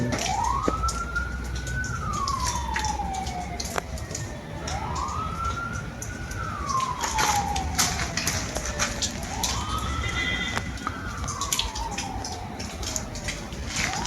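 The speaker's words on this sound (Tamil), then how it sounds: "போலீஸ் இல்லைங்க ஆக்சுவலாக ஆம்புலன்ஸ்" Ambulance siren wailing in long rising and falling sweeps, repeating steadily over a constant background roar as the vehicle passes near Kanyakumari, fairly loud throughout.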